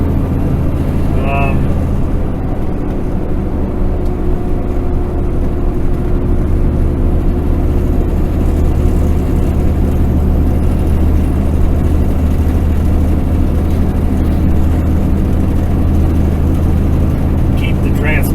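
A truck engine idles steadily with its radiator fan running continuously, a loud, unbroken low rumble and whooshing roar that holds even from start to finish on a stop along a Bighorn Mountains highway.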